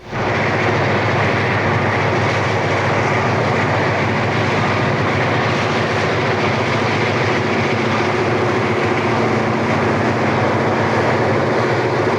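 Freight train number 476 shoving south past a trackside spot, a loud, steady rumble and roar of rolling cars holding nearly constant throughout, close and unbroken, with no talk.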